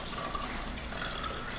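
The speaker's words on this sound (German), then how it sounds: "Bisschen Wasser drüber, umrühren" Water is poured over coffee creamer while making tiramisu, a brief soft trickling and splashing, faint and close.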